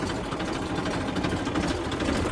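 A tractor engine idles on a farm, a steady loud close-up drone with a fine vibrating rattle running evenly throughout.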